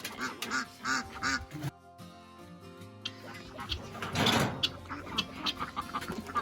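A duck quacks several times close by in a homestead setting, loud bursts near the start, then a pause before more quacks and mechanical clatter, with a few scattered louder calls toward the end.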